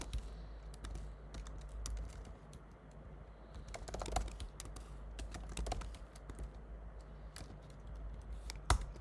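Fast, irregular clicking of keys on a computer keyboard as a command is typed, close and fairly quiet over a low steady hum, with a few sharper taps standing out.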